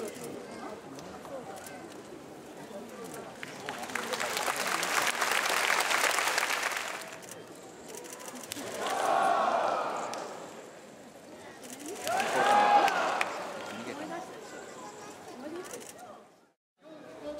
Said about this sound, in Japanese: 力士が土俵入りすると会場には大きな歓声が響いていました